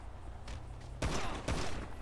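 Two loud, close shotgun blasts in a video game fire about half a second apart, each with a short booming tail over low background noise.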